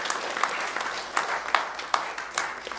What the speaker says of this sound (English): That's the part where you applaud for yourselves